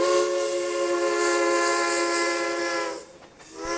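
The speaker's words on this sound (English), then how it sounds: "One of the few that still has two active steam locomotives to admire." The steam whistle of a Mikado steam locomotive blows a long, loud, steady chord for about three seconds, then cuts off into hissing steam before a brief swell returns.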